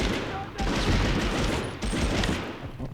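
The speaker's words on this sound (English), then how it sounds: "Let's switch back to the submachine gun just for fun." Rapid bursts of submachine gun fire ring out in Medal of Honor on the PS1, loud and clustered, with game explosions and noise around them.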